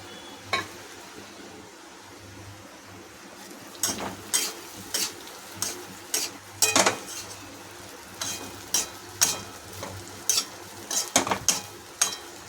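Poha cooked in a pan with a little oil, stirred by a spoon that scrapes and clinks against the metal again and again in an uneven rhythm, over a soft, steady background hiss, with no talking.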